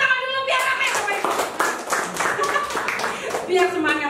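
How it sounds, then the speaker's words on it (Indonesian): Scattered hand clapping from an audience at an Indonesian business seminar, moderately close, mixed under steady speech from a presenter's voice running through the whole moment. "Tepuk tangan dulu biar rame Bapak Ibu."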